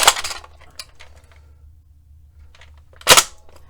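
Nerf Sentry X2 toy blaster being primed, with a few small plastic clicks and rattles and then a sharp mechanical clack near the end, close and fairly loud.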